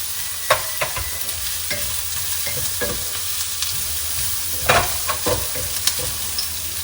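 Finely chopped leek and cabbage stir-fry in a pan for kodo millet upma, giving a steady sizzle and frying hiss punctuated by spatula scrapes and stirring knocks, close by and with no talking.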